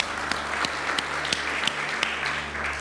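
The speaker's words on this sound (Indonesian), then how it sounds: "Kita tepuk tangan buat Tuhan." A church congregation claps hands in an even rhythm, a bit faster than one clap every half second. The crowd sounds close and busy, with a steady low hum behind it and no talk.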